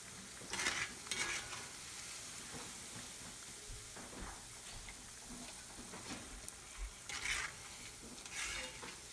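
Cauliflower pieces frying in hot oil until browned for Gobi Manchurian, giving a soft continuous sizzle and hiss with occasional scraping stirs of a utensil in the pan, close and quiet, with no talking.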